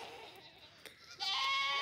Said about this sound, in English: See how that goat sounds right there?